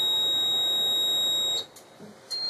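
A fire alarm panel emits a steady high-pitched electronic beep that cuts off after about a second and a half, followed by a couple of brief faint chirps in a quiet room.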